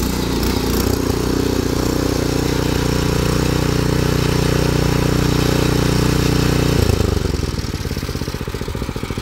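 A power weeder rotavator tilling very hard soil for tomato beds runs with a loud, steady engine drone close by, its rough chugging throb holding constant before the pitch shifts and the note becomes more pulsed near the end.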